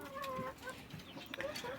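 Several moulting hens cluck close by in a quick, uneven series of short calls, with overlapping voices and a few higher squawks standing out.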